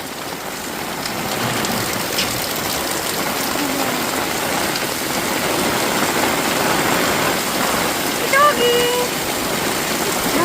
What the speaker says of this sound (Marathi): काय पाऊस आला